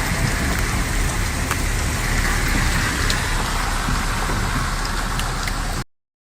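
Steady rain pours down in a dense, even hiss with scattered drip taps. It stays loud and unbroken for about six seconds, then cuts off abruptly.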